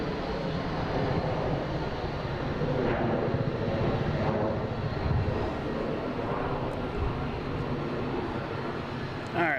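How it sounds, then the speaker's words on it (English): A Delta Embraer E175 regional jet takes off at Boston Logan, a continuous mid-distance engine rumble with a faint whine that stays fairly even throughout, no voices on top. "we got a Delta taking off heading to LaGuardia, an E175, flight 5847"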